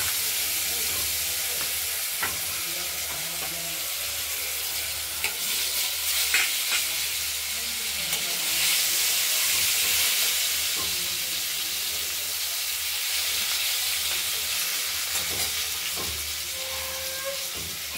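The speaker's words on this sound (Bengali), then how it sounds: "এই ফোড়নের সঙ্গে আলুগুলোকে আমরা একটু হালকা করে ভেজে নেব।" Potatoes fry in hot oil tempered with black cumin seeds, a steady close sizzle and hiss with occasional stirring clatter, quiet talk faintly underneath.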